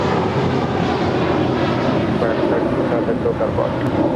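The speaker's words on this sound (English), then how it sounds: "This is American 32 departing to JFK. It's an A321." An American Airlines A321 jet departs LAX, bound for JFK, giving a steady, broad roar of jet engine noise that holds loud and even throughout, with no clear peaks or fades.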